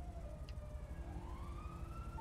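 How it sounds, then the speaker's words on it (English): Police siren in the video game GTA V, a wailing tone rising and falling at a moderate distance over a steady low rumble of game ambience. "I can hear a siren."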